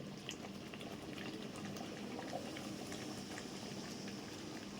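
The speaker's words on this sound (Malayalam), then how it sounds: "ഇനി നമുക്ക് ഒന്നാം പാൽ അതിലേക്ക് ഒഴിക്കാം." First coconut milk goes into jackfruit payasam, a steady liquid bubbling and pouring sound with no talk, even and close throughout.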